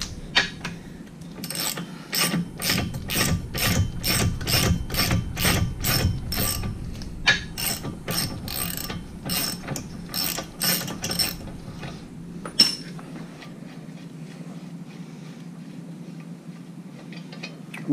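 Ratchet turning the nylock nut off the propeller of a Mercury 115hp outboard, a rapid, close series of crisp clicks repeating in quick rhythm before trailing off into quieter scattered ticks.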